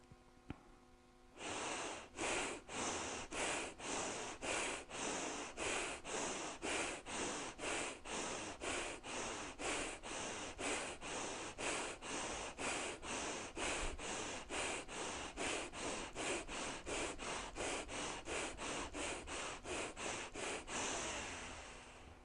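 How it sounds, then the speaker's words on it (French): Breath of fire yoga breathing through the nose: dozens of quick, forceful nasal exhalations in a fast, steady rhythm, close and clearly audible, continuing for about twenty seconds after a brief pause. "Respiration du feu."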